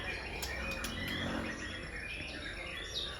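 White-rumped shama birds singing among many others, with thin, high chirps and whistles over a steady wash of insect and bird chatter, moderately distant.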